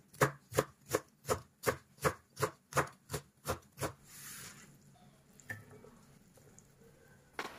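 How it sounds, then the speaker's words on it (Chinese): Knife chopping washed, squeezed Hakka lu cai greens on a board: about ten steady, evenly spaced thuds up close, then a softer stretch of rubbing and shifting with a couple of light knocks. "再切碎"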